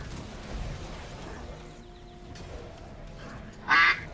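A single brief loud duck quack goes off as a stream alert near the end, over a quiet background of game sounds.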